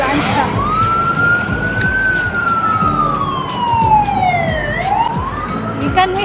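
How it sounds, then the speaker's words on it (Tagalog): An ambulance siren wails along a city street in Lapu-Lapu near the Marcelo Fernan Bridge, a loud rising and falling tone sweeping slowly over steady traffic rumble. "May ambulansya."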